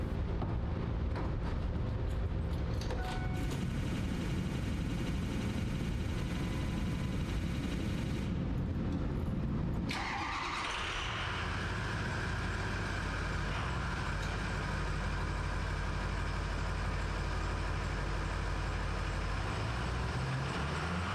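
A Ford 6.0 liter diesel engine cranks and fires up loudly, then settles into a steady, rumbling idle close by, with no talking.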